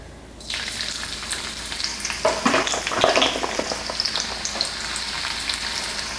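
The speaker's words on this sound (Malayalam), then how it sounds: "രണ്ട് മീഡിയം സൈസ് സവാള കനം കുറച്ച് അരിഞ്ഞതാണ് അത് നമുക്ക് ഈ എണ്ണയിൽ വറുത്തെടുക്കാം" Two medium onions, thinly sliced, hit hot oil at about half a second and sizzle steadily and loudly up close, with a few stirring scrapes partway through and no voices.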